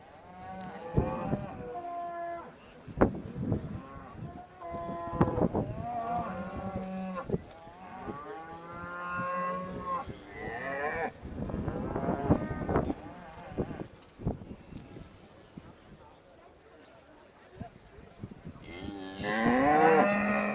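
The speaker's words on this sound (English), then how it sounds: "This is the first prize cow and calf into the female championship." Aberdeen Angus cattle moo repeatedly at a show ring judging at Balmoral Show, with long, varied lowing calls from a cow and calf, some close and loud and others fainter, amid crowd ambience.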